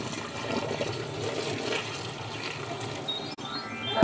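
Tap water runs steadily into a sink while vegetables are washed at home, a continuous broadband splashing rush that stays loud and close throughout, with a brief dip near the end.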